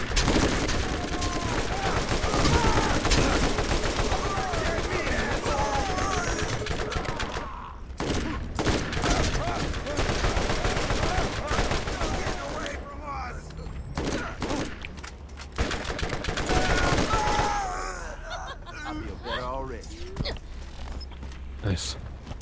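Gunfire in the co-op shooter Borderlands: dense bursts of rapid weapon fire and fusillades, loud and close, broken by short pauses and mechanical clanks, with players talking over the shooting.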